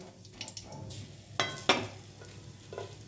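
Dried red chillies fry in oil over low heat, giving a soft, steady sizzle with a few sharper crackles and the light scrape of stirring.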